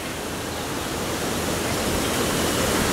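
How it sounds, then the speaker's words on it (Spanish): Swollen San Lorenzo creek after a storm, loaded with floodwater and carrying logs and branches, rushing in a steady, loud broadband roar with no break throughout. "Muy pocas veces se ve un arroyo San Lorenzo tan cargado de agua."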